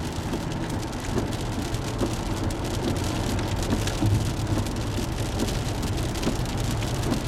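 Heavy pouring rain drums steadily on a UPS delivery truck, a dense, constant wash of close rainfall with low rumbling underneath, continuous and loud throughout with no voices.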